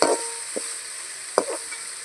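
Curry leaves drop into hot oil and sizzle, giving a steady frying hiss with a few sharp crackles and spits near the start and midway, close up, with no talking.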